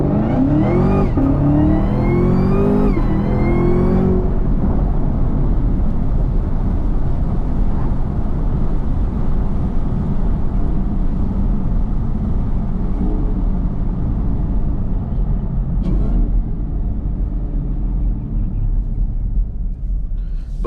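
Chevrolet Camaro ZL1 with traction control on and worn rear tires, accelerating hard through rapid upshifts, the engine rising in a loud close roar before settling into a sustained heavy cruising rumble.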